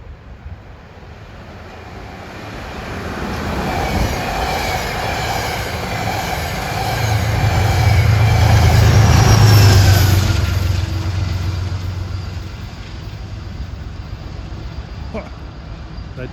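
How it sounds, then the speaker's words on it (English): An equipment move out of Croton Harmon bound for Grand Central, a push-pull set led by a Genesis locomotive, rumbles past on track 2, swelling to a loud peak midway before easing into a steady trailing roll of wheels. "chasing that train on track number 2 should be an equipment train out of Croton Harmon for Grand"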